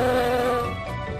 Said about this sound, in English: She hears a buzz and hears some bees.